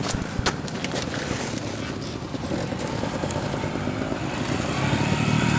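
Trial motorcycle engine running steadily at close range while climbing a small slope, with a continuous droning rumble that rises slightly toward the end and some rustling and wind noise.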